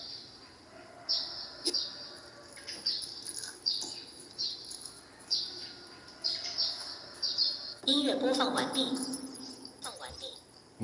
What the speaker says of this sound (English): The birds are chirping, still waiting.